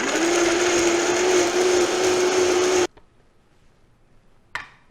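A blender whirs loudly and steadily, mixing salt, cumin and oregano into a paste, then cuts off abruptly, followed by a single faint clunk.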